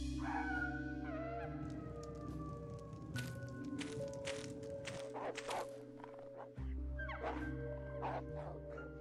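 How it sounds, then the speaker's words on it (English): A dog barks in the video game Deadly Premonition, a few sharp yips and woofs rising over a steady droning game soundtrack with layered tones, moderately loud and fairly close. "That's the same dog sound from Stalker."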